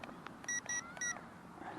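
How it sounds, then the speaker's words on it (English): A JJRC mini drone emits three short, bright electronic beeps in quick succession, each about a tenth of a second apart, faint and close, over low background hiss with no talking. "So 2 beeps, it should be on the high mode."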